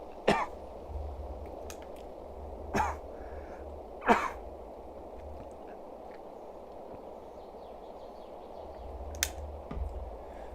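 A Montana wheat farmer coughs several times in short, separate bursts close to the microphone over a quiet background hum, with an occasional faint click in between.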